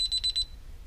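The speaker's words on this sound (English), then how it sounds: "It'll beep 3 times." A DSC alarm panel keypad emits three quick, shrill electronic beeps in a short, even sequence, close and clear, followed by quiet.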